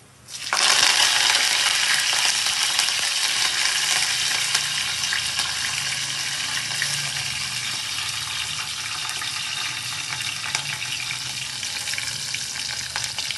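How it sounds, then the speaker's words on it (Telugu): Curry leaves hit hot frying oil with a sudden loud burst of sizzling that settles into a steady, close crackle, alone and without speech. "ఇప్పుడు కరివేపాకు వేస్తా"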